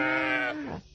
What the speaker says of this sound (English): Ted and Mrs. Boot lift the sheep up into the carriage